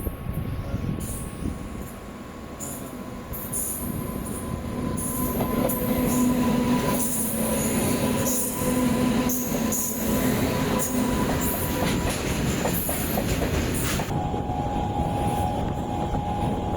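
Another train passes close by at a crossing, heard from inside a moving MEMU passenger train in Tamil Nadu between Salem and Mayiladuthurai: a continuous loud rumble with clattering wheels, squealing rail tones and a long high whine, with no talk.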